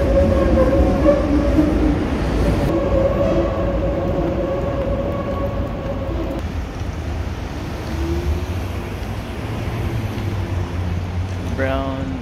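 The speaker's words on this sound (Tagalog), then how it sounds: "Ang ingay dito, maya dumadaan yung tren." A train rumbling past near a border area of Chicago, a loud continuous rolling roar of wheels and cars with shifting tones, ending in a brief high squeal.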